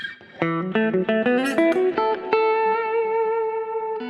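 An Ibanez GIO 7-string electric guitar with Fishman Fluence pickups on the middle position, voice 2, plays a quick run of distorted picked notes that climbs, then rings out on a long sustained tone with reverb.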